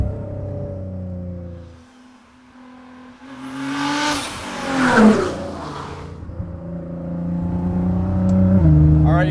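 A 650+ horsepower Nissan GT-R R35 engine drones at steady revs, drops off, then surges in a loud rising acceleration before settling back to a strong cruising hum, heard from inside the car.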